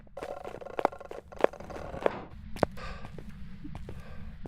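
Footsteps from a ghost in the horror game Phasmophobia come as four or five distinct thuds spaced about half a second apart over a low droning background, with a faint hum and no speech.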